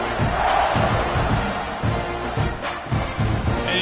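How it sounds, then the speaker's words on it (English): A football stadium crowd roars during a Texas A&M versus Ole Miss game as the kickoff unit takes the field, a dense, sustained wall of cheering and shouting with swelling bursts, loud and continuous. "this crowd is feeling themselves after that last drive"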